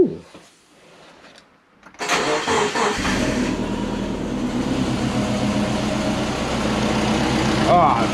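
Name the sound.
Subaru engine idling after first start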